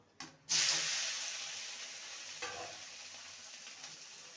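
Potatoes dropped into hot oil seasoned with salt, turmeric and chilli powder burst into a loud, sudden sizzle that slowly settles into steady hissing, with a brief stir partway through and no talk.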